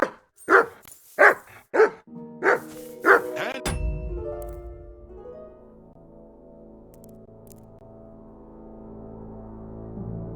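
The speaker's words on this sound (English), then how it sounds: "Whistle at that mutt of yours to stop barking." A dog in the medieval game Kingdom Come: Deliverance II barks six times in a quick, loud, evenly spaced run, then falls quiet under low game ambience and a soft musical tone.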